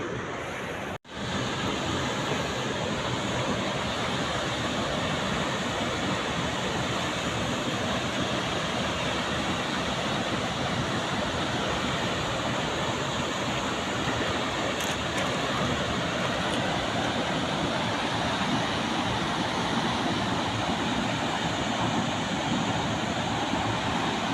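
Roar of Gaganachukki waterfall in Karnataka, a dense, steady rush of falling water filling the whole stretch, loud and unbroken from start to finish with no voices.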